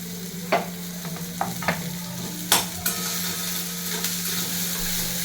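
Chopped onion with browned garlic fries for homemade pizza sauce. A steady close sizzle runs throughout, broken by sharp scrapes and clacks of a spoon stirring the pan.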